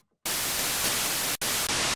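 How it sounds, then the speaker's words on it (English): Smooth key-tracked noise from the Phase Plant synthesizer, bright and close to white noise, sounding as loud steady hiss bursts: one long stretch, then two shorter ones separated by brief gaps of silence. "As you get higher, it gets brighter. It gets closer to white noise."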